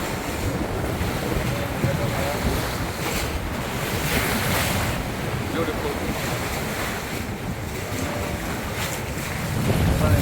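A catamaran sails on open sea off Isla Mujeres, Mexico. Waves rush and slosh constantly against the hull under heavy wind buffeting the microphone, and a voice speaks briefly.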